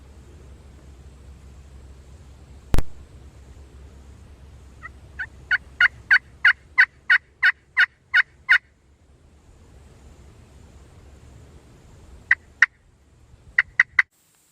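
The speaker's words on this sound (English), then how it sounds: "he just gobbled again" A wild Osceola turkey gobbles in a field, giving a rapid string of sharp, rattling pulses at mid distance, then a shorter burst a few seconds later, with a single loud thump before the calls and a quiet outdoor background.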